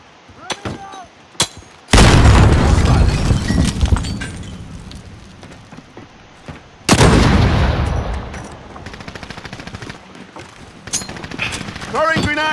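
Gunfire and grenade explosions in Call of Duty Modern Warfare realism mode on PC: two loud, dense bursts of firing and blasts, with sparse pops and callouts before, between and after them, and in-game voices heard throughout.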